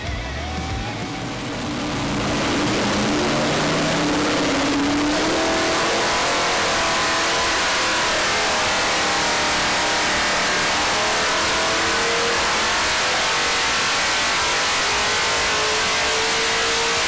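A 410 sprint car racing engine revs up hard on a dyno and then holds a loud, roaring, full-throttle pull that fills the rest of the clip, with no talking.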